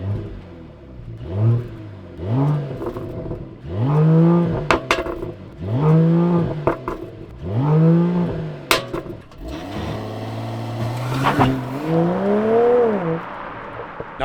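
A BMW E53 SUV with a catless downpipe exhaust is revved repeatedly on a road, five rising and falling throttle blips in a steady rhythm, then a longer pull, loud and near with a raspy exhaust tone.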